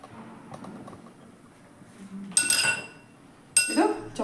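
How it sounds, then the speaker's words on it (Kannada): A metal tava griddle set down on a gas stove, two bright clanking contacts a second apart standing out over a quiet kitchen background. "ಇವಾಗ ನಾನು ಗ್ಯಾಸ್ ಸ್ಟವ್ ಮೇಲೆ ತವ ಇಡ್ತಾ ಇದ್ದೀನಿ"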